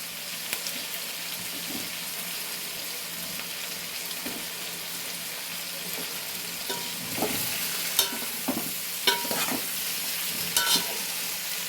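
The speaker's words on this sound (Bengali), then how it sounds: "পেঁয়াজটাও নরম হয়ে গেছে, সেদ্ধ মতো হয়ে এসছে, তাই ওর মধ্যে টমেটোগুলো আমি দিয়ে দিচ্ছি" Tomatoes go into softened onion in a pan and fry with a constant close sizzle, with stirring knocks and scrapes growing more frequent toward the end and no talking.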